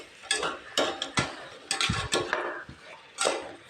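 Vegetables with tomato and onion being stirred in a pan, a series of distinct metallic scrapes and clinks of a spoon against the pan at an irregular pace, close and moderately loud with no talking.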